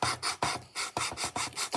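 Rhythmic back-and-forth rasping of sanding on a small styrene model part for a 1/64 scale diorama, about eight close, even strokes in quick succession.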